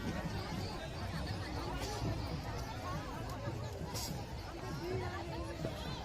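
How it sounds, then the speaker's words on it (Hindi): A dense crowd of women gathered on the ghats of Varanasi for Chhath Puja, a steady hubbub of many overlapping voices and chatter filling the space continuously, loud and close throughout. "ये बनारस के सारे घाटों पर ये भीड़ है"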